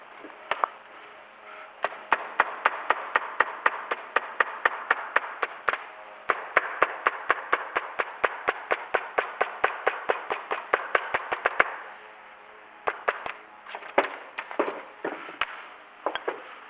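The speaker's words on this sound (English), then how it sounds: "we're going to use the hammer method" Sharp hammer strikes against a gasket template on a Mercedes W115 engine part, a fast, even run of close, crisp taps that stops, then resumes as slower, irregular blows.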